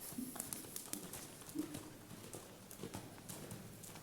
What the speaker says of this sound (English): Let's pick it up to a canter.